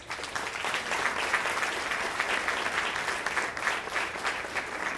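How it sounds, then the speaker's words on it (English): Sustained audience applause for children at a keynote event, steady and dense from start to finish with no break, many hands clapping together in a large room. "Give them a round of applause."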